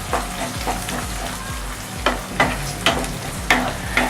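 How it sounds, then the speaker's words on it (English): Julienned tomatoes being mixed into mutton frying in a pan, a steady close sizzle under a series of louder spoon scrapes and knocks at a regular pace, with no speech. "So I'm going to add the julienne cut tomatoes and give it a mix."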